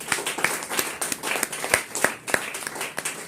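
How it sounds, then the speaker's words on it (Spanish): A Spanish-speaking church congregation claps during a sermon, with loud, distinct individual hand claps standing out over a thinner, scattered layer of applause. "Denle un aplauso al Señor por esto."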